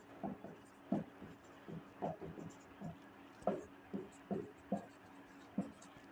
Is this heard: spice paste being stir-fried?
no